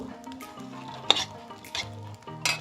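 A spatula scrapes and pushes rice around a pan while making basanti polao, with quiet frying underneath and several brief scraping strokes and metallic clinks.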